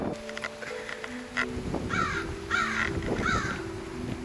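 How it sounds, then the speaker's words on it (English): Outdoor crow cawing, several harsh caws in short repeated groups from a bird overhead, set against low background traffic-like rumble and faint tonal hums. "Bird up there. Caw! Caw!"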